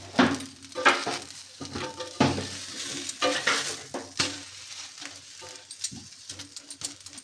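Chilla batter frying and being stirred in a pan, with repeated scraping strokes and a steady sizzle, close by and fairly loud, with a faint bird call in the background.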